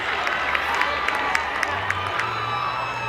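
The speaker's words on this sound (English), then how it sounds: "The Eaglehawk crowd will go nuts." A crowd at a 2025 Bendigo senior football grand final between Sandhurst and Eaglehawk roars and cheers, with sharp whoops and claps rising through a constant din and a low hum beneath.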